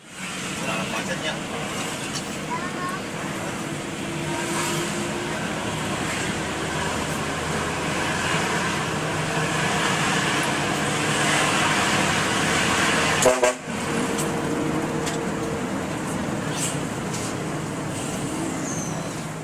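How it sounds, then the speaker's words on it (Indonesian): Dense traffic jam of cars and buses in Kadungora heard from inside a bus, a continuous engine rumble with scattered horn toots near and far, and voices talking under it. "Langsung disambut kemacetan nih di Kadungora"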